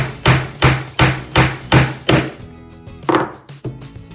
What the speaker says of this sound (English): then use your hammer to finish it.